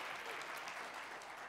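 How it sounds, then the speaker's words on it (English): A church audience claps for Katie after a prayer, a steady wash of many hands applauding at a moderate distance with no talk over it. "Yeah, you can clap for her."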